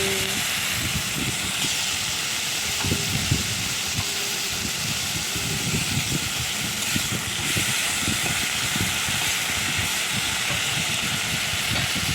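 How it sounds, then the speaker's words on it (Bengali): Prawns seasoned with salt and turmeric fry in a hot pan, giving a steady, dense sizzling hiss with faint crackles that runs evenly throughout, close and fairly loud, with no talking. "এবার চিংড়ি মাছগুলো দিয়ে দিলাম চিংড়ি মাছগুলো ভেজে নেব"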